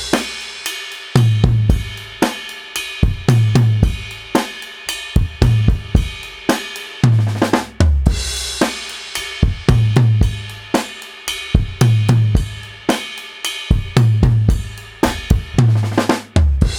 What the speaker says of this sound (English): But version 3 here is like the true, authentic, spiciest Motown fill.